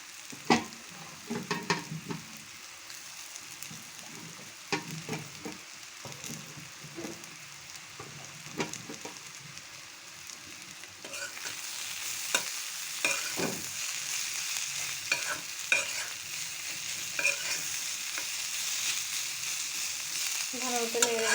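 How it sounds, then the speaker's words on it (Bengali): Shreds of raw mango, sun-dried for two days, frying in oil for a pickle, with soft sizzling under irregular spatula scrapes and knocks. Partway through, the frying hiss grows louder and steadier as stirring continues, close and without voices. "এখন দিয়ে দিচ্ছি কাঁচা আমের ঝুরি টুকরাগুলি।"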